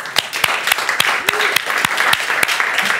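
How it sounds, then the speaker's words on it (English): Audience at a developer meetup applauding, a short burst of sharp, uneven claps with occasional cheers, fairly close and loud throughout three seconds. "I think they deserve a round of applause"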